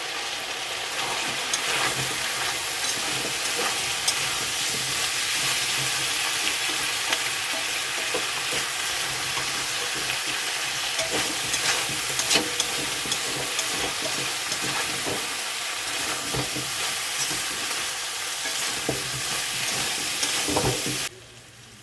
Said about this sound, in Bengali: এবারে ভালো করে কষিয়ে নেবো নাড়িয়ে চাড়িয়ে